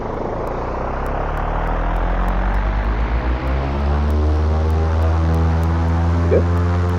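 A simulated airplane engine in X-Plane drones loud and steady on the runway, its pitch sweeping gradually upward as the propeller revs, with rhythmic ticking layered on top.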